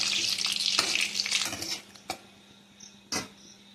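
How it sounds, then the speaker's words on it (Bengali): Two chillies and a bay leaf hit hot oil and get stirred, a loud hiss that fades after a couple of seconds, followed by quieter simmering and a couple of utensil knocks. "এবার এই তেলের ভিতর দেবো দুটো লঙ্কা, একটা তেজপাতা দিয়ে একটু নাড়াচাড়া করে নেব।"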